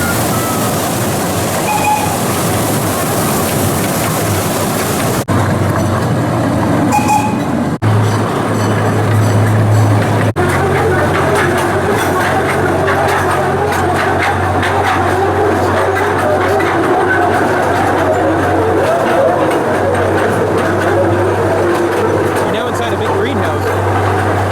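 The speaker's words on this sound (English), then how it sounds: "The park has a train ride that circles around the entire park, making multiple stops." An amusement park train ride circles through Gilroy Gardens with a steady, continuous rumble and low mechanical hum, while voices talk over it throughout.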